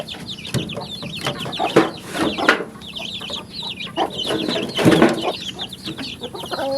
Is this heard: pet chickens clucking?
yes